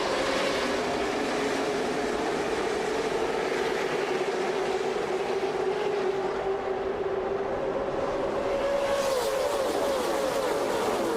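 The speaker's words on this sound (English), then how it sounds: "The 2 trains of cars going at 200 miles per hour would make it clean for the opening part of the race." Packs of NASCAR race cars roaring at about 200 mph in a Wreckfest recreation of the 2005 UAW-Ford 500 at Talladega, a sustained droning engine howl that holds steady and swells slightly near the end.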